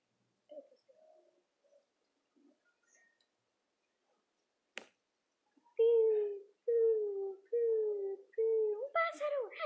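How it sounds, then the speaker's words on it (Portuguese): A bird coos in a series of loud, low, rounded calls close by, after some quiet murmured voice sounds and a sharp click. "Um pássaro!"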